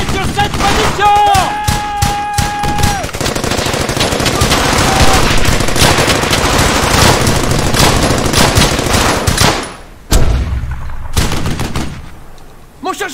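Sustained World War II gunfire from the Brothers in Arms: Hell's Highway game, with dense rapid machine-gun bursts and rifle shots, loud and close, under intermittent French voices, breaking off briefly near ten seconds before more shots.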